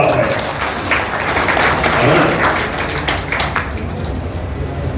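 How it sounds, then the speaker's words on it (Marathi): An audience claps steadily and continuously for several seconds at the inauguration of a Jalgaon Janata Sahakari Bank branch in Shendurni, a dense wash of applause with a murmur of voices underneath. "सर्वांनी टाळ्या"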